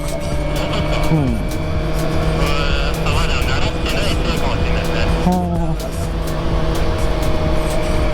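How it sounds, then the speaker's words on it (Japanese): A Kawasaki Ninja ZX-25R four-cylinder motorcycle engine braking on the road, its loud, high-revving whine dropping in pitch each time the throttle closes, heard up close over steady wind and road noise. "アクセル戻すと結構エンジンブレーキくるな。"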